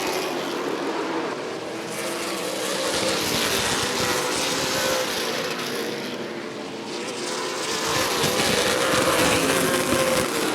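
Super late model race cars lap Rockford Speedway, a continuous loud engine roar that swells and fades as the pack passes, with no talking.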